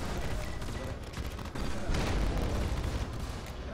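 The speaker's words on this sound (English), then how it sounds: "Oh, you can see me firing off a couple countermeasures." Countermeasures fired from a spacecraft in Star Citizen during a space dogfight, a dense, continuous barrage of bursting, booming shots with heavy low rumble, loud and sustained throughout with no pause.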